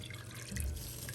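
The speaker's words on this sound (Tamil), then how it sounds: "எனிஹவ் இப்போ நம்ம தண்ணி ஆட் பண்ணுவோம்." Water pours briefly and splashes into a pot of rice being cooked for chicken pulao, a short close-up gush over a low kitchen background.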